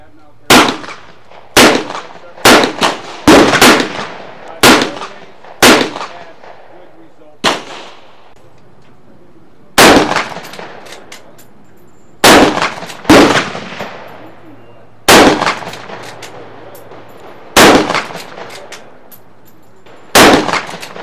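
Suppressed firearms fire at a rifle range in Nevada, about a dozen sharp muffled cracks spaced irregularly, some in quick pairs, each trailing off with a brief echo across open ground.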